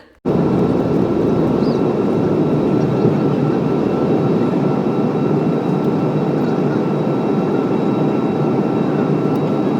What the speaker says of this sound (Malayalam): അങ്ങനെ ഫ്ലൈറ്റ് ടേക്ക് ഓഫ് ചെയ്തു